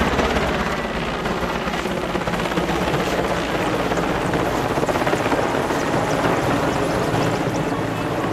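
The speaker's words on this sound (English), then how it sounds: "The helicopters flew over the Delhi hospital as a sign of their appreciation." Military helicopters fly over a Delhi hospital, their rotors producing a steady, loud, continuous thudding drone that stays constant throughout.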